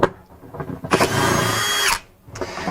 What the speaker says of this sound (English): So removing these bolts are relatively simple. You can use a spanner, socket set, anything you might need.